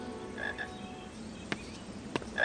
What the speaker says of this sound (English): Ooh, chocolate frog.